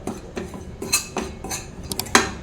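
Rice flour being stirred as it roasts in ghee in a pan, with a series of light spoon-on-pan scrapes and taps at an irregular rhythm, close and fairly clear.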